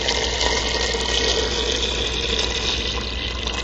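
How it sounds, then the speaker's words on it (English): Water runs steadily from a tap into a pot of bones being prepared for broth, a continuous close gushing and filling sound with a low hum underneath, no talking. "So now I'm going to add water."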